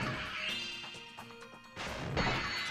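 Bugs get smashed in Spyro: Year of the Dragon, heard as a few sharp crunching crashes, like a breaking pot, with game tones ringing between the hits.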